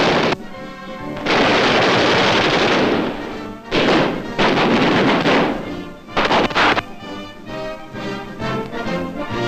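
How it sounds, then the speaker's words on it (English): A .50 caliber aircraft machine gun fires in long, loud, sustained bursts in 1943 wartime newsreel footage, roaring continuously with a few short breaks between volleys and no talk over it. "Manning a .50 caliber gun, he will soon be in action against the enemy."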